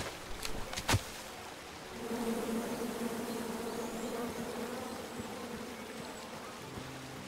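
Bees in the King's Quest video game buzz in a steady, faint drone after a couple of brief clicks at the start, continuing evenly with no speech.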